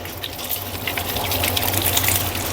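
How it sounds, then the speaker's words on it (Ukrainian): Water runs steadily from the supply line in a sow-breeding pig barn, a continuous hissing gush at close range with no pauses and no talk over it. "Ну, а отак от звідси йде подача води."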